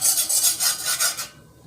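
A whisk scrapes rhythmically against a pot of boiling mixture, giving quick, close rasping strokes in a steady back-and-forth pattern that stop abruptly near the end.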